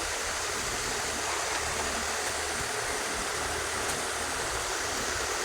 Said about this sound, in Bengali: ডিমগুলো সিদ্ধ দিয়ে দিলাম।